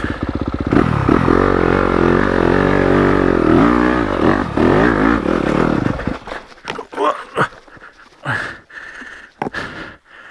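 A stock Yamaha YZ250FX dirt bike engine at low revs in first gear, a loud, close, steady four-stroke burble for about six seconds, then broken into uneven sputters and revs as the throttle is blipped.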